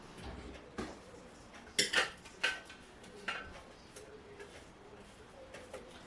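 A spatula scrapes down the sides of a Thermomix bowl with several short, light scraping and tapping strokes, a few louder ones in the middle, set against quiet kitchen background.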